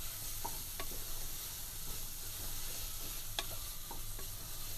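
Tomato paste and softened vegetables sautéing in a pot for Greek white bean soup: a quiet, steady sizzle with a few light spoon scrapes and taps, and no talking.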